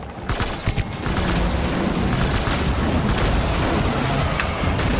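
Gunfire in Death Stranding rattles as sustained, dense bursts of shots and impacts, loud and close, with a few sharper cracks at the start before a continuous barrage.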